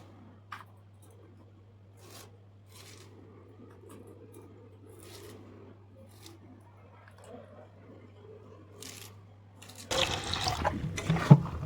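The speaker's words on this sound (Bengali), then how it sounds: "মোচাটা পরিষ্কার করে ধুয়ে নিয়েছি" Banana flower pieces being washed in water, with a burst of splashing and running water near the end after a quiet stretch of faint handling sounds.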